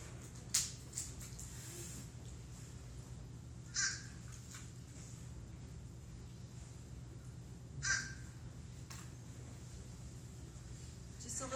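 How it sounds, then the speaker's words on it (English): Fish crow calls, nasal caws rising in three brief separate bursts spread across a quiet background, fairly distant and faint against a low steady hum. "But here's what a fish crow sounds like."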